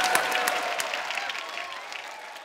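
Studio audience clapping on a Hindi TV talk show, a dense burst of applause that holds steady and tapers slightly over a couple of seconds, fairly close and with no voices over it.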